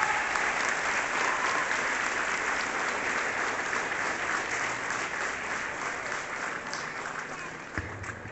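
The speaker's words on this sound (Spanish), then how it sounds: "Fuertes los aplausos" A school ceremony audience claps loudly and steadily for an announced guest, a dense, continuous applause that gradually eases near the end, with faint voices beneath.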